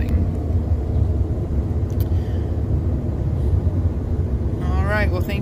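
A car driving through open desert, a steady loud low engine and road rumble filling the whole stretch with continuous talking over it.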